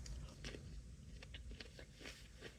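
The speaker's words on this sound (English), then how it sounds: "that zucchini that I just ate probably could use a bit more of being cooked because it's literally crunching in my mouth" Undercooked zucchini crunches while being chewed at a hibachi restaurant table. Quiet, close, irregular bites and crisp crunches come over a low room murmur, with no speech.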